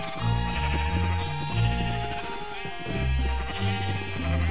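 Sheep in Minecraft bleat several times in quick succession, close and clear, with short repeated calls overlapping in a steady rhythm and no talking.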